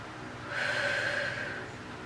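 A single deep breath drawn in audibly and held for about a second during a beginner AeroPilates reformer workout, close and breathy, with no speech.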